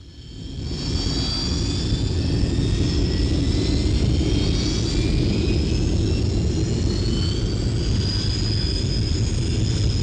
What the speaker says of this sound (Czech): Letouny jsou ještě naposled překontrolovány a Roy pojíždí na čáru předběžného a skutečného vzletu.